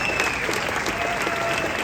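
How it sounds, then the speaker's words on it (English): Applause from a seated audience at a fireside chat with a Miami mayor, steady dense clapping throughout with faint crowd murmur underneath. "So why don't we give him a round of applause?"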